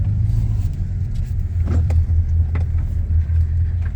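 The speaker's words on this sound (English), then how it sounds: "There's our neighbor Jim coming for his oil change." A car rolls in for an oil change and tire rotation, heard as a steady loud low engine and road rumble from inside a vehicle, with a couple of faint knocks and no talk.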